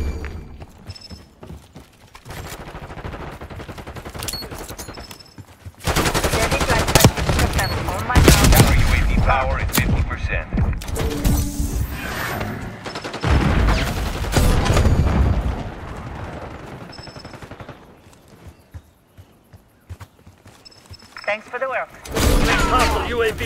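Gunfire in a shooter video game's Hardpoint match: loud bursts of automatic fire and booming shots come in uneven clusters, with players talking over the combat.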